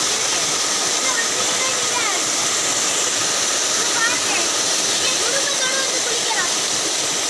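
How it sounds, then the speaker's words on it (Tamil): Small waterfall at Chithambarapuram in Tirunelveli, a steady broadband rush of falling water close by, continuous and loud throughout, with faint voices and bird-like chirps riding over the roar. "இங்கே ஒரு ஸ்மால் வாட்டர் ஃபால் இருக்குது பார்த்துக்கங்க. என்ன அழகாக தண்ணி வருது பாருங்கள்."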